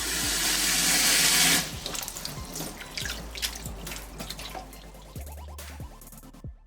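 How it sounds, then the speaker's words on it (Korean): Bellflower root being rinsed under running tap water, with a loud steady gush for the first second and a half, then softer splashing, dripping and handling in the sink. "깨끗이 헹궈주고 물에 30분 담가 쓴맛을 우려냅니다."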